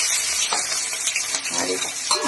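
Onion and dried red chilli crackle and fry in hot tempering oil, a close, steady, busy hiss with small popping bursts throughout, no voices.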